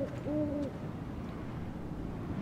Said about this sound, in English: I don't know if owls count, but it's like any noise.